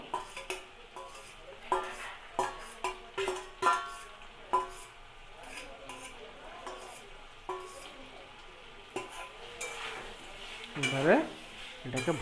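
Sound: pointed gourd, potato and Gobindobhog rice mixture poured in and stirred

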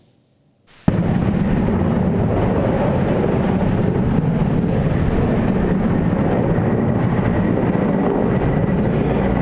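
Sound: firefighting helicopters dropping water on wildfire

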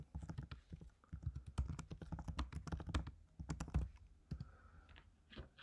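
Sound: typing on a computer keyboard

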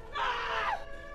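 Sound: people screaming in a monster film

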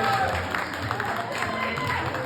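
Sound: applause at a first-birthday party

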